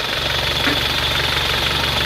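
Engine idling steadily right after a full overhaul, a continuous close mechanical drone with a faint rhythmic knock and hiss, with no talking.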